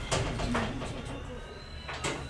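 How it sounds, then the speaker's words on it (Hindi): An indoor door is shut during a devotional talk, giving a sharp knock near the start and another solid thump toward the end over a low room hum. "दरवाजा बंद कर दो।"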